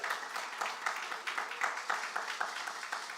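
A small audience at an Emancipation Month talk claps in a quick, fairly even rhythm, the claps moderately close and moderately quiet, with no voices over them.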